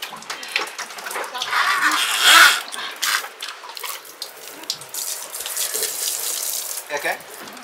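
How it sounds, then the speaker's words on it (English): Fresh water shower running after snorkeling at an island beach, a splashing, hissing spray that swells and fades in bursts, with faint voices nearby. "You want a fresh water shower?"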